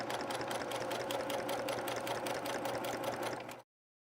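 A sewing machine stitching a quilt runs in a steady, rapid, even rhythm for about three and a half seconds, close and clear, then stops abruptly into silence.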